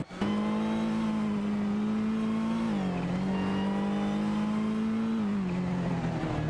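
In a racing video game, a TVR Tuscan and a Porsche 944 Turbo run with a sustained, droning engine note. The pitch dips twice as the cars shift or lift, and no voices are heard.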